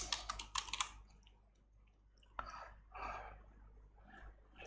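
Rapid clicking of a computer keyboard as a candidate's vision statement is typed into a 2024 campaign app form, a dense burst at the start, then quieter scattered keystrokes with soft breathing in a quiet room.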